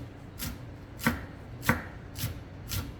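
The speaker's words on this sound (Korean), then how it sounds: "파는 이렇게 칼집, 십자로 칼집을 두셔서 또 송송송 썰어 보겠습니다." A kitchen knife slices green onion on a cutting board in a cooking class, five distinct crisp chops spaced about half a second apart, close and alone with no talk.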